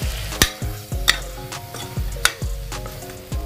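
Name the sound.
stirring spices into mutton curry in cooker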